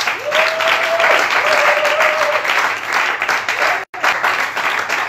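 A church congregation applauds Jesus Christ with sustained, loud clapping that fills the room, under a faint held tone and a brief dropout near the end.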